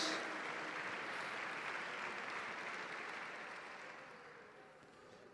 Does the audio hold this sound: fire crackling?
no